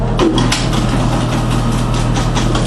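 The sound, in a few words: 300 RPM floor buffer machine running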